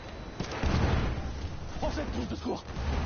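Grenades and dynamite burst in rapid succession during a Frontlines match at Fort DeVoe, low rumbling booms packed together and overlapping, with a commentator talking over the barrage.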